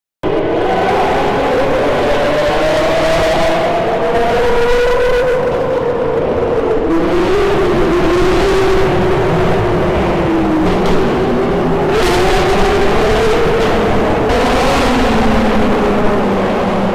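A convoy of hypercars accelerates through London streets, engines swelling and falling in repeated loud pulls, close and continuous over seventeen seconds, with no talk.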